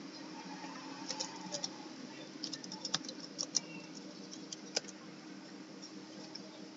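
Typing on a computer keyboard, a faint, irregular patter of light key clicks with a few sharper taps, heard alone with no talking.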